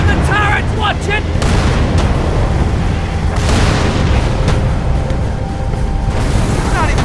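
Turrets firing during a battle in Halo 3, heavy booming blasts and bursts rolling over one another, loud and close, with a dense rumble throughout and a voice calling out briefly near the start.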